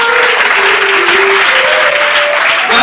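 A church congregation applauds loudly and steadily throughout, with a sustained tone running beneath the clapping.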